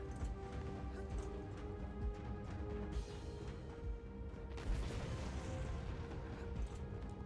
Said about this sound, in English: Explosions galore.